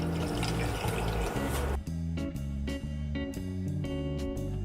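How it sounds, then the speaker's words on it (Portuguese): Milk poured from a container into a pan while making a bacalhau dish, a steady liquid splash that cuts off partway through, followed by quieter stirring and clinking. Background music plays throughout. "Já foi o leite absorvido, vamos novamente deitar mais."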